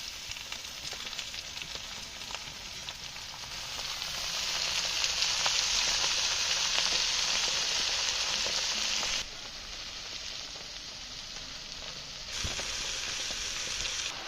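Fresh leafy greens (shak) tossed into hot oil in a village kitchen, a bright steady sizzle that swells louder partway through, then drops back and surges again near the end.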